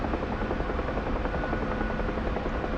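A UH-1H Huey helicopter in the flight sim DCS World drones loudly and steadily, with a constant rotor throb and engine whine throughout and no speech.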